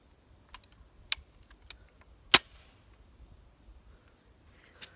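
A Bug Assault toy salt gun fires at a wasp, giving several sharp, quick snaps spread irregularly across a quiet background, one shot louder than the rest, over a faint steady high-pitched hum.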